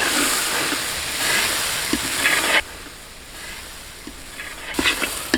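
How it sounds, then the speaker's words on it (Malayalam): Fish masala with Kashmiri chili powder sizzles and hisses as it is sautéed in a pan, with occasional scraping stirs and a louder frying burst near the end, close and continuous. "ഇനി നമുക്ക് ഇതങ്ങോട്ട് വഴറ്റാട്ടോ നല്ല രീതിയിൽ"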